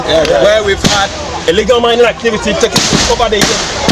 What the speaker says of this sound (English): that is the sound of gunshots fired by the police